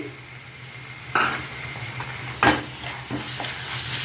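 Ginger-garlic paste and coriander powder fry in a pan for a raw banana dish, a soft steady sizzle broken by a few scraping stirs of a spoon against the metal.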